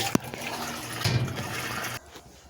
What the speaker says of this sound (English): All right, it paused again, adding more water.